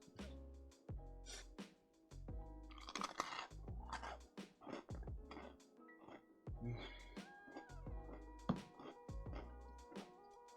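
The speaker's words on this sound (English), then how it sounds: "And then for the biscotti, just to show you how much of a crunch this is." Crunchy coffee chocolate nut biscotti is bitten and chewed close up, producing repeated loud crunches and cracks in an uneven rhythm, with quieter chewing between bites.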